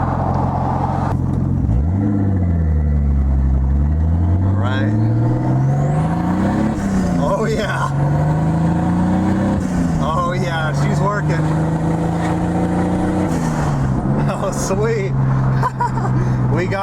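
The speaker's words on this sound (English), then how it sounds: "we'll do a little half throttle run on the highway and see how it spools and everything" A turbocharged Datsun 280ZX pulling at half throttle on a highway, engine note rising and falling through gear changes with turbo whine, loud and close, with a voice talking over it.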